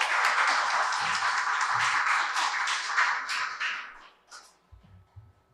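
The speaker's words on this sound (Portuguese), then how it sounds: "Então, com as palmas" Audience applause welcomes a guest to the table at a centenary tribute event, a dense, steady clapping crowd for about four seconds that then fades out, leaving a few faint taps and low murmurs.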